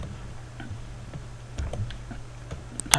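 Someone types a web address on a computer keyboard, with a handful of light, close key clicks scattered over a quiet hum and a sharper burst of taps at the end.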